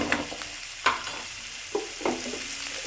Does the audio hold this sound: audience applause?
no